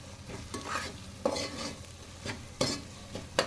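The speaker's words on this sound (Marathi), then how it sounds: "आता टोमॅटो आपला भाजत आलाय, बघू शकता तुम्ही." Tomatoes fry in a pan with a soft, low sizzle, broken by a few sharp scraping stirs of a spatula against the pan at irregular intervals; no one speaks.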